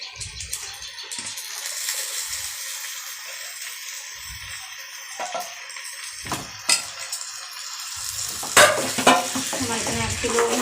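Chicken meat sizzles in a pan of oil with fried peanuts for chicken rocha as it is stirred, producing steady frying hiss punctuated by scraping and clanking of a spatula against the pan.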